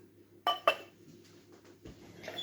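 Dishes being washed in a home kitchen, with two sharp clinks of pots and cutlery close by, then quieter rattling and splashing at low level.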